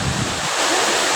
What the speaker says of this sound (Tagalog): ito na yung hangin dito, napakalakas